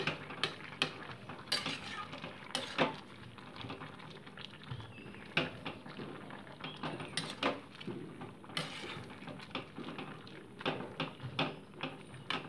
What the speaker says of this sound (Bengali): সবজিগুলো একটু স্ম্যাশ করে দিলাম।